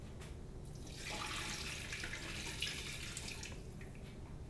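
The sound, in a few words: lukewarm water poured for challah dough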